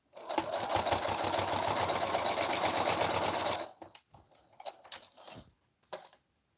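A sewing machine stitches a waistband in a fast, even run of needle strokes for a few seconds, then stops, followed by scattered soft clicks and handling noises.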